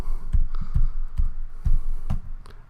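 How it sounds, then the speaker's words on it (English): Keys tapped on a computer keyboard while entering an IP address, a short run of about six distinct clicks spaced unevenly, close and moderately loud over a low background hum. "Once you have it, simply type it in."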